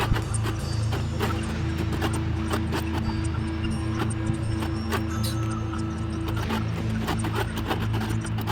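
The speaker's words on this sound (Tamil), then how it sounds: "இப்போ அடுத்த பார்ட்டையும் நான் தைச்சிக்கிட்டு இருக்கேன்" Sewing machine stitching a part of a silk skirt, a steady fast mechanical whir with rapid needle ticks running continuously, close and even throughout.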